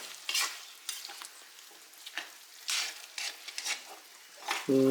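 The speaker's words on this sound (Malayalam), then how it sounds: "തിളക്കണ എണ്ണയിലും കൂടെ ചുരുക്കം മിക്സ് ചെയ്തും നല്ല പോലെ അങ്ങോട്ട് മിക്സ് ചെയ്തെടുത്ത്" Fish pickle is stirred in hot boiling oil, with soft sizzling under repeated scraping strokes of a spoon against the pan, coming in uneven bursts, and a brief clank at the very end.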